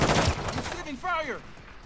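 Gunfire in the shooter Call of Duty: Modern Warfare II, a dense burst of rapid shots at the start fading out, with a voice speaking over the later part.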